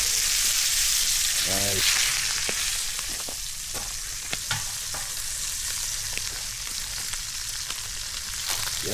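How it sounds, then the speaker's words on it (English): Steak sizzling over a very hot open fire, a steady loud frying hiss with crackles and small pops throughout, and a brief spoken word over it. "Yeah, that fire's really hot. That steak looks delightful."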